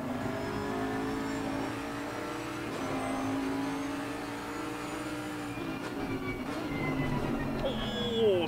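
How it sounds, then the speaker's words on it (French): A Bentley GT3 2018 with a V8 engine in a racing video game at Spa, a steady sustained engine drone with shifting pitch and faint gear changes, heard at moderate level without talk. "dont le V8 fait un bruit magique"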